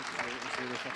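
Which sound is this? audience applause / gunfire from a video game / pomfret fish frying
audience applause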